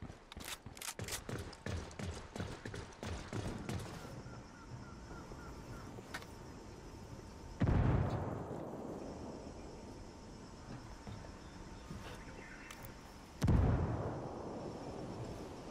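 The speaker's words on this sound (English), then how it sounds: "he's throwing frags at me" Two frag grenade explosions in the Ghost War game, set in a sub factory, boom out seconds apart, each a sudden blast followed by a fading rumble after a rapid burst of gunfire at the start.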